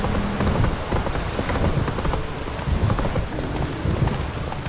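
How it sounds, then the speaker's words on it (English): Heavy downpour in The Witcher 3: Wild Hunt, a dense, steady roar of rain hammering surfaces with rumbling undertones, continuous and loud with no voices. "This downpour's a bastard"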